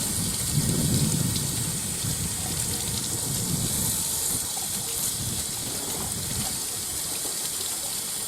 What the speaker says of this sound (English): so let's run a little water on this.